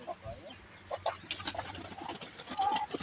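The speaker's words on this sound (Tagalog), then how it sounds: "Ayan na yung mga manok." Chickens in a poultry house cluck and call faintly in the background, scattered short calls with one clearer call near the end, under light room noise.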